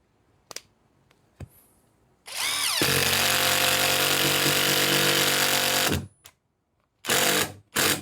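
A Nevvo 16V cordless drill drives a screw into soft pine wood, its motor whining loud and steady for about four seconds after a short ramp-up, with a few faint clicks before and brief bursts of drilling after.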